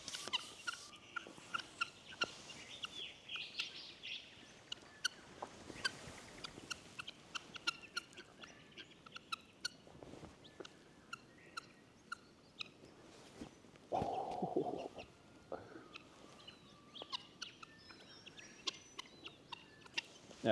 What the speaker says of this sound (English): so we got seven guinea fowl